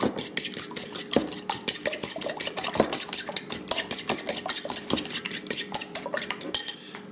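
Rapid, steady clinking of a spoon beating eggs in a bowl for an omelette, close up and continuous, with no voices.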